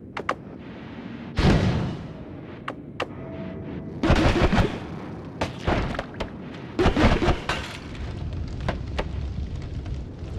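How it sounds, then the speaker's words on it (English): Explosions in the roguelike game Noita go off as several loud, sharp booms at irregular intervals, each with a crackling tail, over a steady low rumble of game ambience. "Explosion will probably do me in here."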